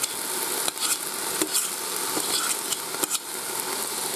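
Rice stirred around in a hot Ninja Foodi pot for fried rice, giving a steady close sizzle with repeated scraping and clinking strokes of a utensil against the pot.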